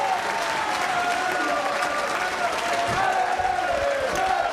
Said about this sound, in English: the French crowd goes crazy